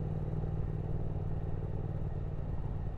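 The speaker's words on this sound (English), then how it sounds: "I just want to keep riding and riding this bike." A Triumph Speed Twin motorcycle rides along at a steady pace, its engine giving off an even, low rumble with a faint ticking pulse, continuous and unbroken throughout.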